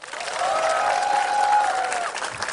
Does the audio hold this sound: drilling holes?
no